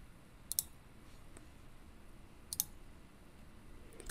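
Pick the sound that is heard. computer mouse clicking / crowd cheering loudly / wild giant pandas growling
computer mouse clicking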